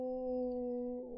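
A dog howls in one sustained, tonal wail that holds steady and then bends and fades, fairly faint against a quiet background.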